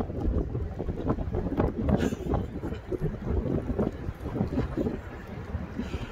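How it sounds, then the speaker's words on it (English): Steady rain and gusting wind batter the microphone outdoors in cold Amsterdam weather, a continuous rough rushing with a louder gust near the start and no talking. "It's raining pretty steadily now, and it's still windy and cold."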